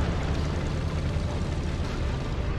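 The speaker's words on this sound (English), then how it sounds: "second shot gives a fuel explosion" A tank's fuel tank blows up in the top-down tactical tank game Tankocracy, a dense rumbling explosion that fills the moment with a sustained roar, loud and close, with no talk over it.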